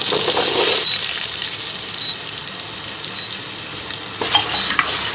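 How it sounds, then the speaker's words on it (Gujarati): Peeled, cut raw potatoes frying in oil in a kadai make a loud, bright, steady sizzle up close, easing slightly in the middle before a few stirring scrapes near the end, with no voices. "પહેલાં તો બટેટાને આપણે એકદમ ફ્રાય કરી લઈએ 2-3 મિનિટ સુધી"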